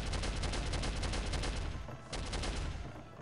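Dense, continuous bursts of automatic turret gunfire from the video game Soldier of Fortune, rattling loudly for about three seconds with a brief dip midway and no talking.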